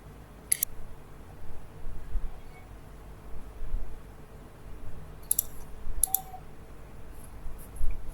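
A few sharp mouse clicks scattered over near silence while texturing a 3D model, single and double clicks spaced apart.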